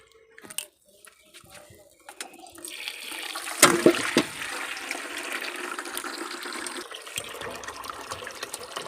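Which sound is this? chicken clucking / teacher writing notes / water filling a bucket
water filling a bucket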